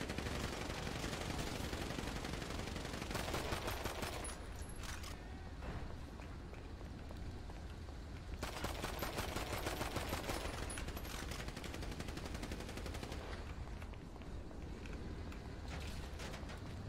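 Continuous dense gunfire and mechanical clatter from a video game escort mission fill the scene at a low, steady level, with no clear gaps and no talk.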